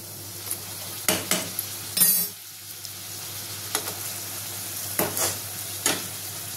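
Stuffed vegetable parathas fry in hot oil with a steady broadband sizzle, broken by several sharp clinks and scrapes of a spatula turning them in the pan; no one speaks.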